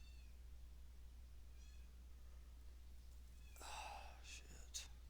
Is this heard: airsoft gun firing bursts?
no